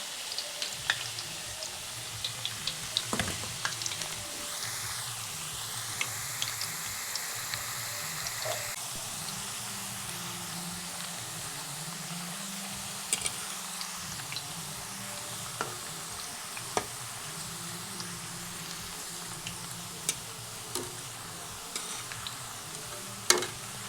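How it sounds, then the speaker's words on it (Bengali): Potato chips frying in hot oil at home give a steady soft sizzle, with occasional clinks and stirring scrapes from a utensil in the pan. "আলুর চিপসগুলি ভালো করে ভাজা হয়ে গেছে, লাল লাল হয়ে গেছে"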